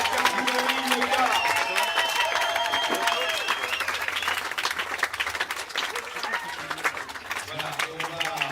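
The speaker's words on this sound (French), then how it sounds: "On peut quand même les applaudir très fort." A crowd applauds the first-place IMOCA sailing crew at a Transat Jacques Vabre prize ceremony: steady, dense clapping throughout, with a voice speaking over it on a public address.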